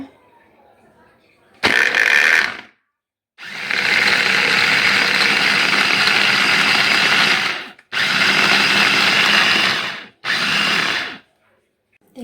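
Electric grinder blending onion for a curry, running in three loud bursts of steady whirring with short pauses between, close by.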